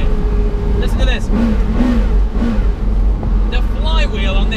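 Porsche Carrera GT engine revving, a loud, steady mechanical roar with rising and falling rev sweeps that hold through the whole stretch.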